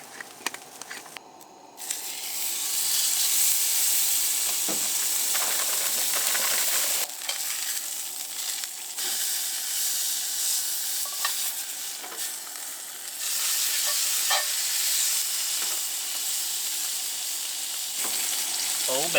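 Green beans fry in a pan at a campsite by the dunes, a loud, dense sizzle holding steady throughout with scattered crackles and brief scraping stirs.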